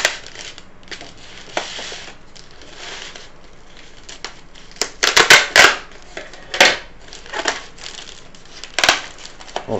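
Packing tape on a box holding a USB condenser microphone being sliced and torn, with sharp crackling cuts and rustles bunched up near the middle, plus scattered handling noises close by in a quiet room.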